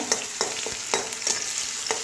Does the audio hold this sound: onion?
yes